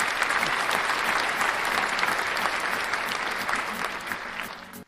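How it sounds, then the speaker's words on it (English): An audience gives a round of applause for guests at a talk event, dense sustained clapping from a crowd of moderate size that carries on steadily before cutting off at the end. "We're going to give them a round of applause."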